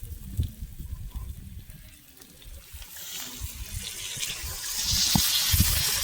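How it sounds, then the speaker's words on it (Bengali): Water poured into a hot pan of fried-down spices in a home kitchen, a steady hiss and gush rising toward the end, with faint sizzling underneath. "এবার আমি জল দিয়ে দেব।"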